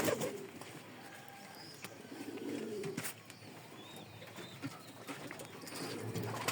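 Pigeons cooing inside a pigeon farm, several soft, low repeated coos and faint chirps over a steady airy background hiss, moderately distant and fairly quiet throughout.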